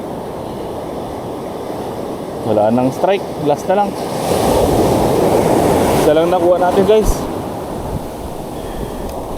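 Big waves crash and surge on a beach at Long Point, Palawan, at night during a fishing and camping trip, a steady loud roar of surf with wind, with someone talking over it in the middle.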